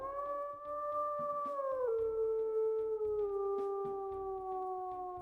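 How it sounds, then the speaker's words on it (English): A wolf in the WolfQuest video game howls in one long, loud, sustained call that steps down slightly in pitch twice, with a faint repetitive game background beneath. "Let's also go ahead and listen to his howls."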